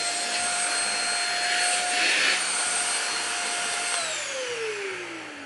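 A Thompson bed vacuum cleaner for removing dust mites runs steadily and loudly up close, a whining motor hum over a chopped, rhythmic low rumble, with the pitch dropping near the end.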